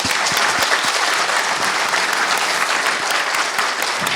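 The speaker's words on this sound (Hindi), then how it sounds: "So, can we just have a big round of applause?" A conference audience at Ayushcon-2023 bursts into a big round of applause, dense and steady clapping filling the room throughout with a few sharper individual claps standing out.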